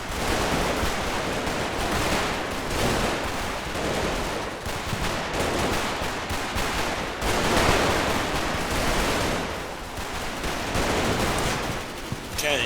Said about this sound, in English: the newly arrived mortar starts firing too